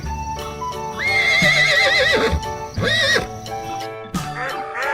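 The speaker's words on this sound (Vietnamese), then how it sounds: "Con ngựa." A horse lets out a loud, close whinny with a shaky, quavering rise and fall, followed by shorter snorting neighs, with no voices.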